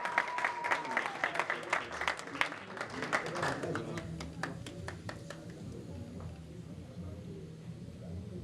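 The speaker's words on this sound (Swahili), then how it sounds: "Tuwapigie makofi." A crowd at a Congolese youth party in Baltimore claps in a dense burst that thins out and fades after several seconds, with voices talking over it.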